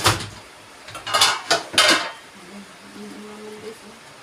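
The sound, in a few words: casserole pot being handled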